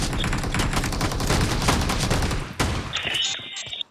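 Rapid shotgun blasts ring out in a video game firefight, loud and close, a dense volley of shots running for several seconds before a brief gap and a final burst.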